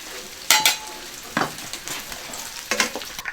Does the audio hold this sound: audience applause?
no